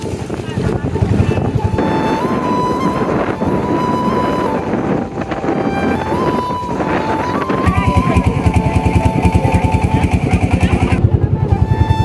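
Strong wind buffets the microphone over a steady boat engine drone on the Jamuna River, loud and continuous, with a voice talking underneath.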